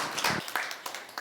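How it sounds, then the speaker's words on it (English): A live studio audience breaks into applause for a participant, a burst of hand claps that is loud at the start, then thins into scattered fading claps over about a second. "Big round of applause for Rachel"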